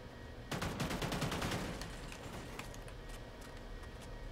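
Automatic gunfire in Call of Duty Ghosts on the Freight map: a sudden rapid burst of shots that fires steadily for about a second, then trails off into scattered single shots, fairly quiet overall.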